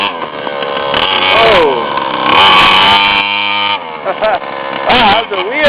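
A mini bike's small engine whines and buzzes close by as Aaron rides, its pitch rising and falling with throttle, while excited voices talk over it.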